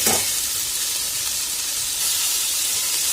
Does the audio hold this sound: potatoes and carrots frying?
yes